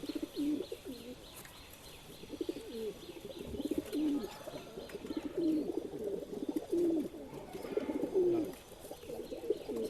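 Rekhdar pigeons at a sale: repeated soft, throaty cooing phrases from several birds nearby, rising and falling in a steady rhythm over faint background rustle, with no talking.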